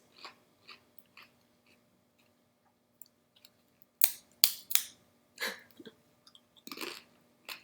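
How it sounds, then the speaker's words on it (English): Close, crisp bites and crunches of chips being chewed, a few scattered crunches at first, then a quicker run of loud bites, with no talking. "Crunchy cucumber, crunchy chips."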